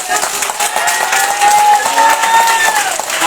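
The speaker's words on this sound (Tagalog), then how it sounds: "Palakpakan po natin ang ating Panginoon" Church congregation clapping during worship, a continuous bright patter of many hands throughout, with sustained singing or voices layered over it.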